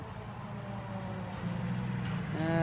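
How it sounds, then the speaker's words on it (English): A loud, noisy truck rumbles past a cemetery at Lake Lindsey, its low engine drone building steadily and growing closer and louder toward the end. "Loud, noisy truck."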